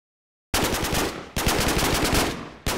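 Automatic gunfire at targets in the Minecraft video game, loud rapid bursts starting after a brief silence, with a short gap between bursts and no talk over it.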